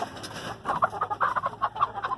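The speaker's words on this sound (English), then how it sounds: "Happy, healthy birds." Chickens on a vintage homestead cluck close by in a quick, uneven run of short bursts, with no talking.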